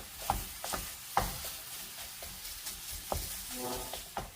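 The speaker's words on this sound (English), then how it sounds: "I am going to cook a pound of breakfast sausage because this is going to go into my breakfast sandwiches" A pound of breakfast sausage cooks in a pan while being broken apart, with intermittent sharp scrapes and clacks over a low, steady sizzle and no talking.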